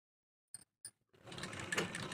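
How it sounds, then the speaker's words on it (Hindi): Domestic sewing machine stitching the collar seam of a half-collar kurti, starting after two short clicks and settling into a steady, close, continuous mechanical whir with no talk. "अब इस पर हमें सिलाई करनी है।"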